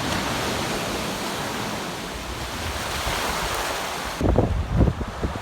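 Beach waves wash in a steady, dense roar of surf with wind noise on the microphone, then a few louder bumps and rustles close by toward the end.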